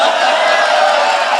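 A kavi sammelan audience breaks into dense, sustained applause and crowd noise, loud and steady throughout the brief moment.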